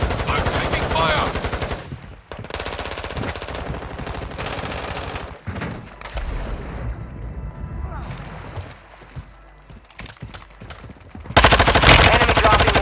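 Gunfire in the shooter game Warzone 2 during a match: bursts of automatic weapon fire with separate shots and blasts, loud and close, broken by quieter gaps, with game voice callouts over part of it.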